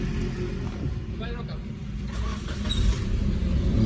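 Suzuki Cultus engine starting and idling after throttle body cleaning and calibration, a low steady rumble close by with a slight rise in revs, and a voice talking over it.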